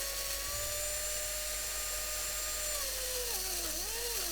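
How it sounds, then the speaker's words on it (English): Electric mixer grinder running steadily with roasted peanuts in its grinding jar, a continuous high motor whine holding close and loud, its pitch dropping and wavering near the end as the load shifts. "Now turn the mixer for 30 seconds."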